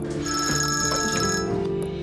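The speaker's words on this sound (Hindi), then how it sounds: "सुमई अम्मी का फोन आ रहा है" A telephone rings with a bright electronic tone, steady and close for about two seconds, in an indoor drama scene with no talking over it.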